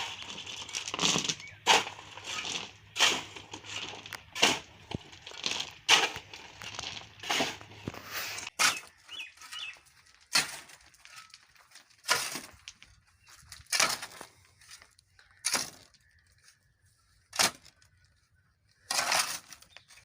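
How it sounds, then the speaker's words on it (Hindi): Cement is mixed by hand: a series of scraping, gritty crunches and knocks comes in uneven strokes, with pauses between them. "अब हम इसको मिक्स करेंगे जी। सीमेंट हमने डाल लिया है।"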